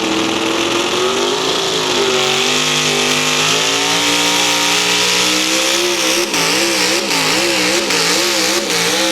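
A Chevrolet pulling truck's engine roars loud and close at a truck and tractor pull, revving in long sustained pulls with rising and wavering pitch, turning into rapid warbling surges toward the end.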